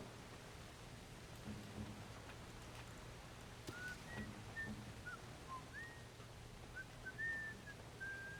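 Leanna, a character in the fantasy role-playing game Dragon Age: Origins, whistles a few thin, wavering notes that rise and fall, moderately clear over a steady hiss of rain and a low hum.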